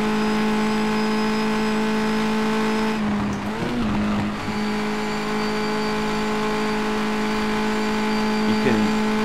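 A race car laps a wet track in the World Racing Series sim, its engine holding a steady high whine with a brief throttle change and tyre noise partway through, loud and continuous.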